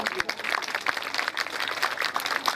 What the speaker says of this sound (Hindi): अगर जी चाहे तो तालियां बजा दीजिएगा।